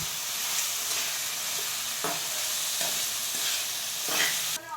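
Tender spring onion greens stir-fried village style in a pan, a steady close sizzle with a handful of spatula scrapes and taps spaced through it.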